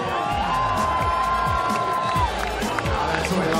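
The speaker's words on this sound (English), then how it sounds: "give us the biggest cheer of your life" Live crowd at a STIHL Timbersports event in Australia cheering loudly and continuously, a dense roar of shouts and whoops close by, with a rising whistle partway through.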